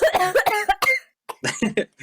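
A quick series of harsh coughs, close up, in two bursts separated by a short pause.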